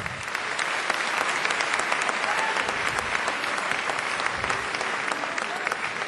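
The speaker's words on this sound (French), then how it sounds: "Bravo Charles, on peut l'applaudir très fort." Sustained, dense audience applause at a political party congress in Nîmes, a large hall crowd clapping steadily and loudly for the whole stretch with no pauses.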